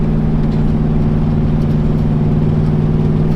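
A '57 Chevy with a new exhaust idles close by, giving a loud, steady, deep rumble with an even, lopey pulse and no voices over it.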